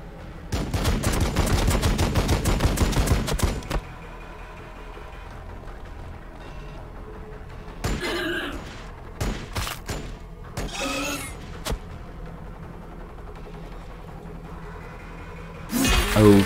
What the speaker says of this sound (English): Oh, shooting in close combat.